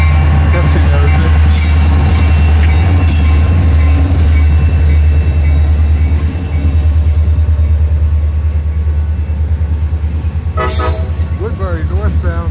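A northbound train, WPCA-11, rumbles past a grade crossing near Woodbury at close range with continuous wheel and rail noise, a loud horn blast sounding near the end along with squealing wheels.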